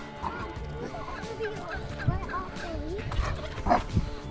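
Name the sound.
dogs barking on a farm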